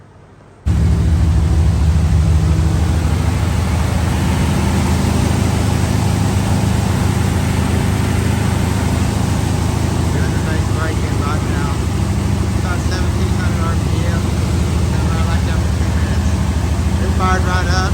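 A car called the Deerslayer starts up and then runs with a steady, loud, close engine drone. The low rumble holds for the whole stretch with no clear talk over it.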